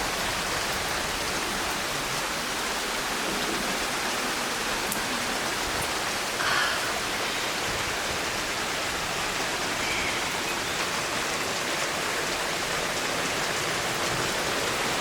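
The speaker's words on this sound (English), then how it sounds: "Oh, it's really stormy." Heavy rain from a thunderstorm pours down steadily for the whole stretch, a dense, even hiss close by with no talking and only faint brief knocks within it.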